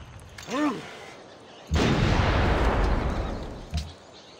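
Artillery in Civilization 5 fires at a Cossack unit: a heavy boom erupts and rolls into a long, rumbling roar, followed by a smaller thud, after an earlier brief tonal chime.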